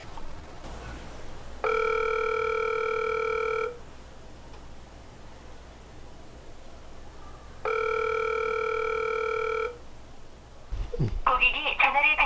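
An unanswered telephone call rings back twice through the handset, each steady electronic tone lasting about two seconds with a quiet gap between them. A short sound and a voice follow at the end.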